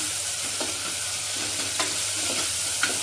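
Chillies sautéing in a pan over a low flame, a steady soft sizzle with a few scraping stirs of a spoon heard close by.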